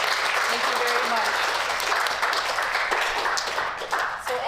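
An audience at an Odawa Native Friendship Centre storytelling event applauds the storytellers with dense, steady clapping, close and lively, with a few voices mixed in before it begins to taper off.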